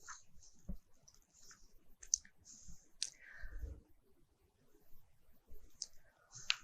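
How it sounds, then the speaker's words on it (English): A computer mouse gives a few crisp, light clicks, close by and isolated, with faint desk noise between them. "Then I click on OK."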